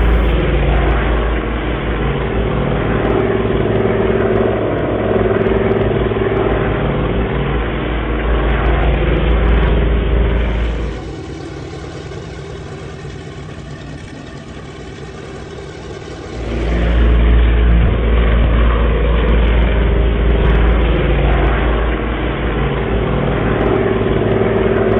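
Avro Anson aircraft engines drone steadily on approach, heard from inside the plane as a loud continuous roar that briefly dips and shifts in tone midway before returning.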